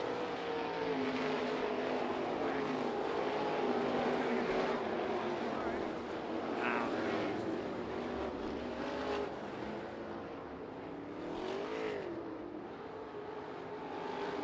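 Sprint cars racing at Bubba Raceway Park on a dirt track, engines droning steadily and loudly throughout with a few rising passes, under continuous race commentary.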